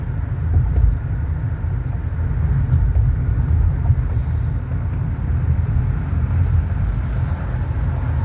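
A car driving along on a short joyride, with a steady low engine and road rumble that holds close and even throughout, no voices.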